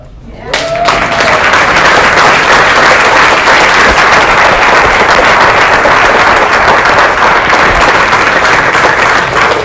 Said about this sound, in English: Would you all be willing to give Dominic and his students a big round of applause?